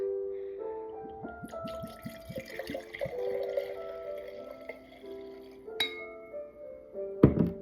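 Orange wine poured from a small bottle into a glass, with a close, faint trickle and rising glassy tones, a few clinks and a sharper knock near the end.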